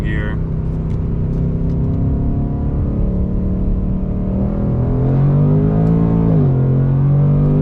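A 2024 Ford Mustang Dark Horse with a 10-speed gearbox, driven through paddle-shifted gears: a steady, loud engine drone from inside the car rises in pitch as it accelerates, then dips at a gearchange, with a voice briefly over it.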